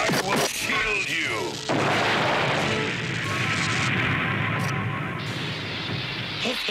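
Explosion during an animated Transformers robot battle, a loud, dense roaring blast with a sharp crackling onset that rumbles on for several seconds, with whooshing, jet-like tones sweeping through the mix.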